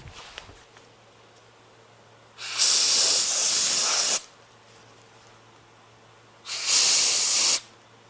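Degreaser sprays onto bolt threads on a pneumatic barrel grease pump in two loud, steady hissing bursts, each lasting a second or two, with quiet pauses between.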